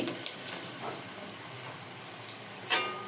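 Three eggs frying in a pan for chowmein give off a soft, steady sizzle and hiss, with a few brief spatters and scrapes.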